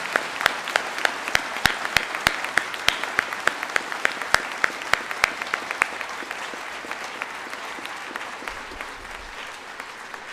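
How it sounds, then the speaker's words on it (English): An audience at a salute to veterans applauds them, many hands clapping, with a few sharp, distinct claps standing out in an even rhythm that gradually thins and softens toward the end. "let's give them a huge round of applause"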